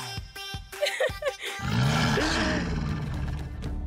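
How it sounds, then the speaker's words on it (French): After a few sharp knocks comes a long, low stomach growl, a loud rumbling groan that swells and lingers for a couple of seconds. "C'est mon estomac qui grogne."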